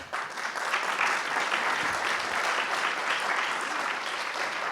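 An indoor audience at an IRS REI Tour 2009 presentation claps steadily and fairly loudly throughout, a dense unbroken applause with no talk over it.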